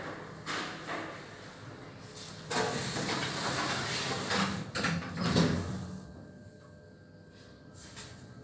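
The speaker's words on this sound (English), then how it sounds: "Doors closing." KONE lift doors at a shopping centre car park slide shut with a mechanical whirr and soft hiss, a close rumbling movement ending in a settling thud, followed by a quieter hum inside the car.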